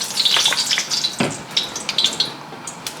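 Sliced onions and garlic hit hot oil in a preheated pan, giving a close, crackling sizzle with scattered pops and spits over three seconds, no voices.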